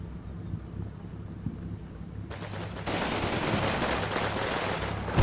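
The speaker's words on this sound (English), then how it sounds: "So he kept firing." An AI soldier in a military training video game keeps firing, producing a dense, sustained roar of gunfire that starts abruptly partway through and continues loud to the end.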